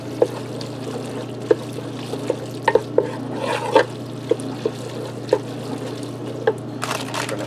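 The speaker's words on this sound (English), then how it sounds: "you just want to stir your cheese around and melt it in there." Cheese is stirred into mac and cheese in a Ninja Speedi, giving soft wet squelches and light scrapes of a utensil against the pot at an irregular pace, close by over a constant low appliance hum.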